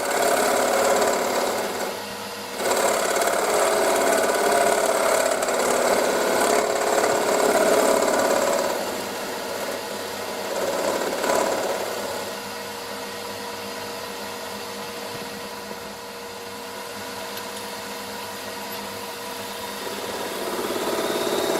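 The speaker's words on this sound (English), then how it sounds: "Quickly square up the tenon to go in the chuck jaws." A wood lathe spins steadily with a low mechanical hum while a tenon is squared for chuck jaws; the sound is louder early on, with intermittent tool cutting, then settles quieter, and there is no talk.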